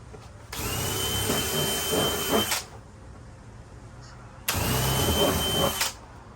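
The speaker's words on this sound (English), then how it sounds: "we're going to change out to a 3/8 bit. Just widen these holes out a little bit." Power drill with a 3/8 bit widening holes for a watering cup fitting, two loud sustained whirring bursts of about two seconds each, separated by a quieter pause.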